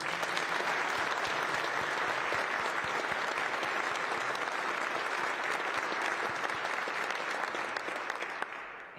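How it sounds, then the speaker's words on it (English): Sustained applause from an audience honoring a retiring Coast Guard leader after nearly 39 years of service, steady and dense throughout and tapering slightly at the very end. "Let's give him a round of applause."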